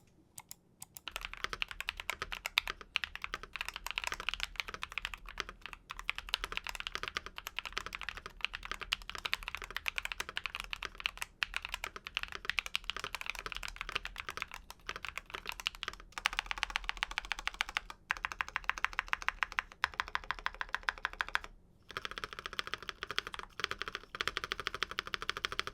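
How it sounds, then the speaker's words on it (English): Keychron K10 V2 mechanical keyboard, stock out of the box, typed on continuously for about 25 seconds, giving dense rapid clacky keystrokes close to the microphone with a few brief pauses. "I want to show you guys a quick sound test of what the K10 V2 sounds like straight out of the box."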